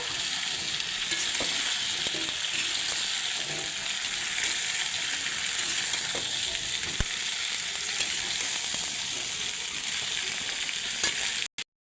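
Drumsticks and potatoes frying in a pan give a steady, close sizzle for several seconds, with occasional light stirring clinks, ending abruptly.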